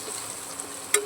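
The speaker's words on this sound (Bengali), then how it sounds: "কষিয়ে নিচ্ছি।" Spices with Kashmiri chili powder are stirred and sautéed for a paneer curry in a pan, giving a brief soft sizzle with a quick scrape of the spoon.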